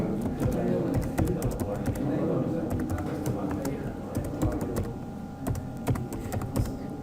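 Computer keyboard keys tapped in quick irregular bursts while entering an email or username at a login screen, fairly close and steady, with a soft voice murmuring underneath.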